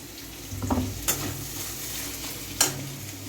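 Ginger garlic paste frying in a pan for chicken dum biryani, a continuous moderate sizzle with a few sharp scraping stirs from a utensil.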